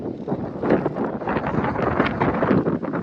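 Strong cold wind gusts outdoors on a remote Alaskan ridge, buffeting roughly and continuously against the microphone with no voices.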